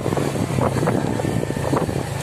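A motorcycle engine drones steadily up close, mixed with rushing wind noise, while riding through a village, and no one speaks.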